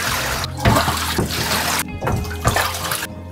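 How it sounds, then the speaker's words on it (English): Water runs and splashes over a cyanotype print being given a final rinse, a loud, close gush with sloshing surges. "And one final rinse."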